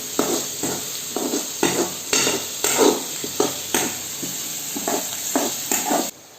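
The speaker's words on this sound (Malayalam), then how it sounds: "ഇനി ഇതൊന്ന് വഴറ്റി കൊടുക്കാം." Beef with spices sautéing in a hot pan for a beef roast, with a steady sizzle under repeated scraping strokes of a spoon stirring the meat at a brisk, regular pace.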